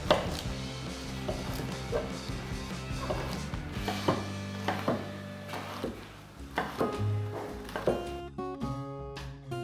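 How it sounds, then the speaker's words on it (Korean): Knife chopping a king oyster mushroom into small pieces, a run of quick, close taps and thuds on a cutting board with short pauses, heard alone with no talk. "새송이 한 개는 적당한 크기로 다져주세요."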